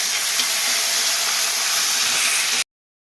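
Cumin seeds and green chilies sizzling in hot oil, giving a loud, steady, close hiss that cuts off abruptly.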